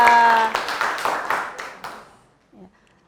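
A classroom of students clapping together in a few quick, rhythmic bursts after giving correct answers, with a voice over the start; the clapping fades out within about two seconds, followed by near silence.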